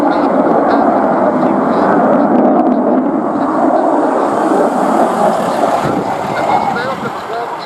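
An RAF Eurofighter Typhoon jet flies a display at the Cosford air show, a loud broad sustained roar that fades slightly near the end while an announcer talks over it.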